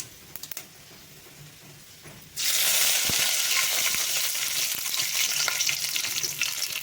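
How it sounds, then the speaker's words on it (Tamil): Curry leaves drop into hot oil where mustard seeds have already popped, setting off a sudden loud, steady sizzle that runs on close up after a few quieter seconds of frying and faint crackles. "கடுகு பொறிஞ்சிருச்சு இப்போ நம்ம கருவேப்பிலை போட்டுக்கலாம்"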